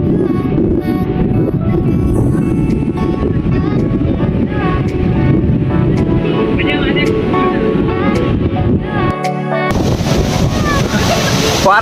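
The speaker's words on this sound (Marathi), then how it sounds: "हे बघू शकता तुम्ही हा आहे तो धबधबा" Dugarwadi waterfall near Nashik roaring up close, a dense, continuous broadband rush of falling water that stays loud throughout, with a brief dip and change of tone near the end.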